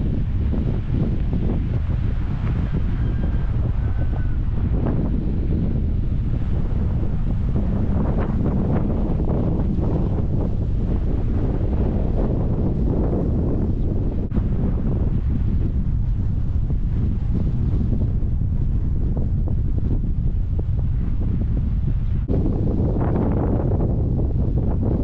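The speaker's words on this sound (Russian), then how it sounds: "Ветер сегодня сильный и холодный." Strong, cold gusting wind at the seashore in Mariupol during a storm, waves about 1.5 metres, buffets the microphone in a continuous low roar, with the wash of waves faintly audible underneath.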